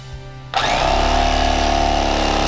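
A powered blade cuts into hard seat foam on a Honda 300L ATV: after brief quiet, a loud motor whine kicks in abruptly and holds steady and close, with no voices over it.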